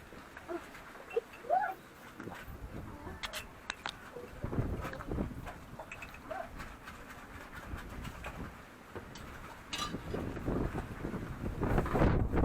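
Strong wind buffeting the microphone outdoors near a church in Nasugbu, Batangas, heavy irregular low rumbling gusts that swell and fade, growing louder toward the end, no speech.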